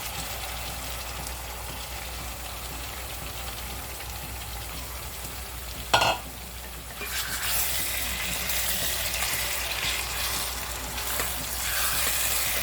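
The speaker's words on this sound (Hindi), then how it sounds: "अभी चिकन डालेंगे और चिकन को अच्छे से भूनेंगे।" Chicken fries in a pan with browned onions, a dense steady sizzle that jumps with a sharp clatter midway and then grows into a louder, rain-like crackle as the pieces sear.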